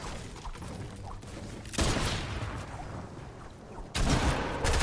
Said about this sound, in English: he just tried to shoot me with a shotgun, and whilst he hit me, he got like 12 damage